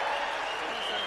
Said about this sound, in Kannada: ಅವರಿಗೆ ಚಪ್ಪಾಳೆ ಮುಖಾಂತರ ಅಭಿನಂದನೆ ಸಲ್ಲಿಸಬೇಕು ಅಂತ ಕೇಳ್ತಾ ಇದ್ದೇನೆ